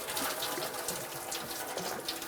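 Coolant drains from the recovery tank hose of a 1999–2006 Chevrolet Silverado 1500, a close, steady splashing trickle of liquid that runs without break.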